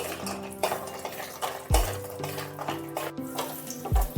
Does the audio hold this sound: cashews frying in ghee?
yes